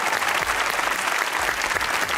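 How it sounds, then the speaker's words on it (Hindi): A studio audience at a comedy talk show claps briskly in a dense, even burst of applause, close and lively, with no speech over it. "अपने लिए तालियां बजाइए एक बार।"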